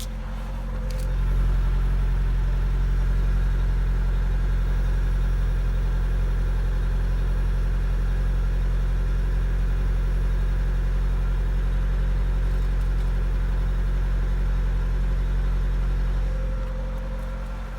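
A Fiat Egea that had not been driven for more than 20 days idles steadily just after a cold start. The engine gives a continuous low hum and rumble, close and even, throughout.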